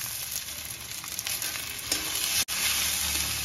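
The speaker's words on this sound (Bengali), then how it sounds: "এবার এর মধ্যে কুচনো টমেটো দিয়ে দেব" Chopped tomatoes sizzle steadily in a frying spice masala while a spatula stirs and scrapes the pan, loud and close. A brief clatter comes near the end, and no one speaks.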